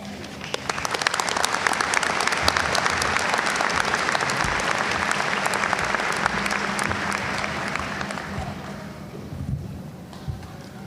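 A large college commencement crowd claps steadily and loudly for several seconds, then the applause thins out and fades toward the end.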